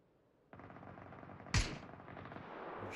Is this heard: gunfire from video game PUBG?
yes